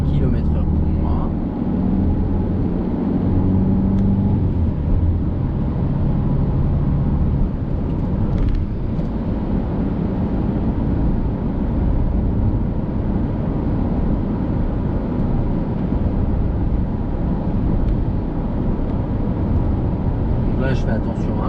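A car being driven on an open road with a 100 km/h limit during an exam-route driving lesson, heard from inside as a steady, continuous engine and tyre rumble with wind noise throughout.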